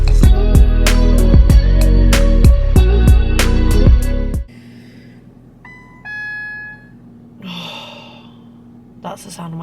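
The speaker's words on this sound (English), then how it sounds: "That's the sound of my car needing petrol." A car's low fuel warning chime sounds as a short, steady electronic tone partway through, after loud music cuts off. It plays over a quiet cabin hum with faint breathing around it.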